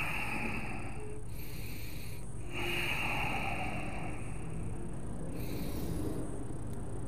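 Audible breaths during a yoga core hold, with several airy, nasal inhales and exhales rising and falling in slow succession, close up over a steady low background.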